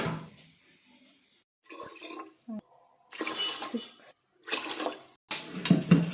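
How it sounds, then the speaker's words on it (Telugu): Water splashes and pours into a pot of moong dal and rice in several separate bursts, each lasting about a second, close by with short quiet gaps between. "మనం ఇప్పుడు వాటర్ వేసుకోవాలి"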